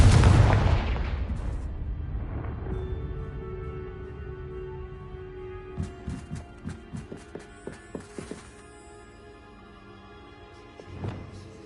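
Confringo blasting spell cast in the Hogwarts Legacy video game: a heavy booming blast up front that rumbles away, followed by a run of sharp crackling bursts and a final thud, with no talk.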